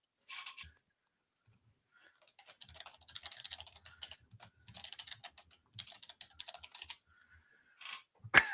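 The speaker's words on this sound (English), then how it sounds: "I'm typing." Rapid clicking of keys on a computer keyboard in irregular bursts, quiet and close, with short pauses between runs of typing.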